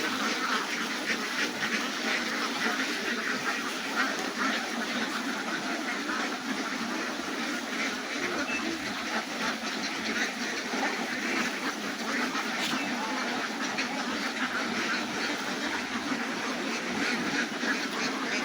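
A large flock of ducks on a duck farm quacks continuously, a dense overlapping chorus at close range with no pauses.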